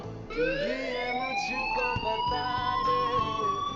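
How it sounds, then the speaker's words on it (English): A fire alarm wails continuously in the Life Is Strange video game, a loud rising electronic siren tone that holds steady and alone for several seconds. "please turn off that alarm since that's your job"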